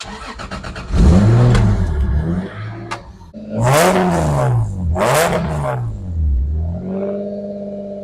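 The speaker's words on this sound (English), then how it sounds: "The new engine is in and it runs very well" A Toyota Supra's newly installed engine revs up loudly several times, rising and falling in pitch, then settles into a steady idle.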